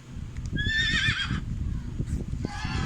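A horse whinnies in a clear rising, wavering call, then gives a second shorter neigh, heard at moderate distance over a busy background with faint voices.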